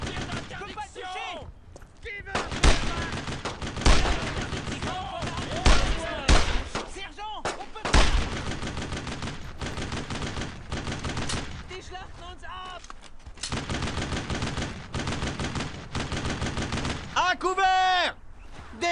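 Gunfire in the World War II shooter Brothers in Arms: Road to Hill 30 crackles in rapid bursts and single shots, loud and close, with soldiers shouting over the battle throughout.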